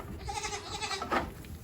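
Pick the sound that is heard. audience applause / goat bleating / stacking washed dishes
goat bleating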